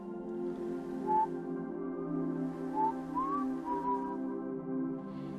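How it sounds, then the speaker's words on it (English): Faint, soft whistling of a simple wandering tune, a few held and sliding notes over a low steady hum, sounding somewhat far off. "off in the distance the prince could hear a whistling."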